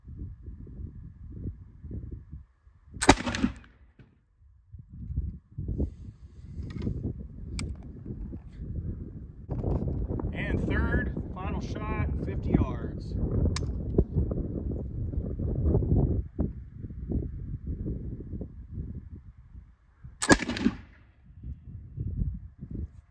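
Pedersoli Brown Bess musket fired on a 50-yard range: two sharp, loud reports stand out about seventeen seconds apart, each a sudden crack over steady wind and rustling outdoor background.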